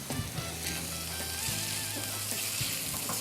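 Pork pieces fry and get stirred in a pan with a steady, crackling sizzle, punctuated by scraping strokes and faint low background hum.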